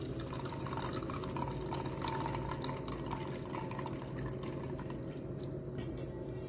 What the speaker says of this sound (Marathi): या भाजीचं वरचं वरचं पाणी मी एका छोट्या पात्यात काढून घेत आहे